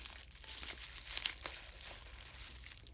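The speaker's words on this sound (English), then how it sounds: "Just trying to do the tape there." Adhesive tape being handled during inspection of a damaged iPhone 6 with a bent earpiece, giving faint, close crinkling and crumpling with a brief sharper tear-like crackle near the middle, alone at low level.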